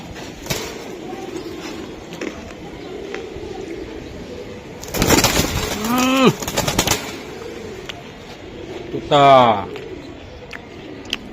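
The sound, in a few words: pigeons cooing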